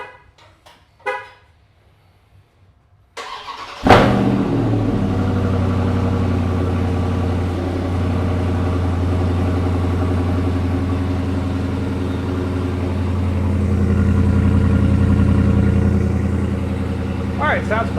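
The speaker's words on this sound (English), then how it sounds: "these iPhones never pick up the deep rumble that these Hemis put out" A Dodge Charger with a Hemi V8 starts with a sharp crank and settles into a deep, steady idle rumble that swells slightly later on, heard up close with a few brief sounds before the start.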